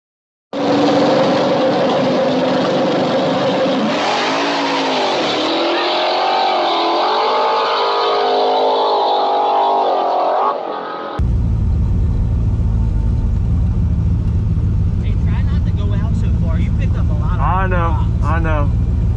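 A turbocharged 4.8 Fox-body car accelerates hard on a street, its engine roaring loudly with rising and falling pitch through the gears, then giving way to a heavy, steady rumble of wind and road noise.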